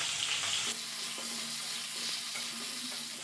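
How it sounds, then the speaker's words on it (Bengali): Washed pointed gourd pieces fry in hot oil, a steady close hiss with a sharper burst at the start and a few faint clinks of stirring, no voices. "এবার ধুয়ে রাখা পটল ভেজে নেব।"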